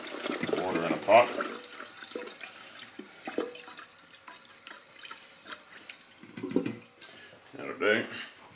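Water runs from a tap into a pot with a steady, soft splashing hiss, while someone talks over it at intervals.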